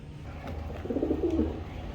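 Male pigeon cooing close by, a soft low throaty coo rising and rolling over a faint background hum.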